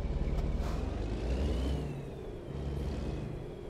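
A heavy truck engine idles and rumbles as it is put into gear in American Truck Simulator, a steady low drone with a short hiss like an air brake near the start, no voices.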